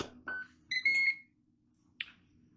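A Ninja Foodi pressure cooker's control panel after start is pressed, giving a few short, faint electronic beeps and tones close by in a quiet kitchen, with gaps between them.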